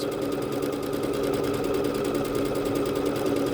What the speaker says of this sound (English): Let's see what it looks like as it stitches out.